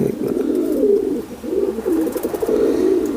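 A female pigeon coos close by in low, throaty, rolling phrases, repeating steadily through the clip without any talking.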